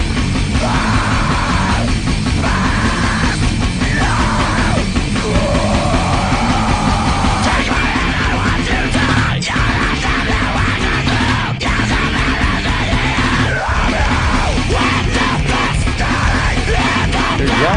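A loud screaming rock band recording: harsh yelled vocals over dense, thrashing instrumentation that stays at full volume for the whole stretch.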